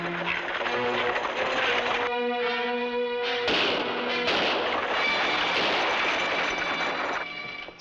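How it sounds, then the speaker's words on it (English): Rifle shots crack loudly and close, one after another, over a dense, rumbling mix of sound. The firing is continuous and no voices stand out. "Keep firing."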